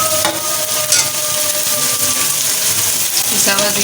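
Ground spices roast and get stirred in a pan for baingan bharta, a steady close sizzle with scraping stirs running continuously throughout.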